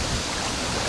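Waves washing against a lake shore on a rough, windy day, a loud continuous broadband rush of surf with no voices.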